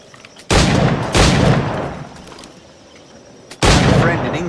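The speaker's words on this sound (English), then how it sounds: "I guess I'll just keep shooting the targets then?" Three loud, close firearm shots aimed at targets in Assassin's Creed IV: Black Flag, each a sharp blast with a short ringing tail, the last arriving after a quiet pause.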